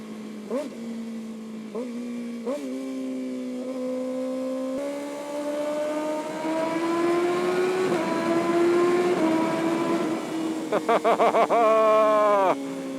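A 2025 Kawasaki ZX-6R motorcycle pulls hard through several quick-shifter gear changes, pitch climbing then dropping with each shift, ending in a burst of rapid crackling pops.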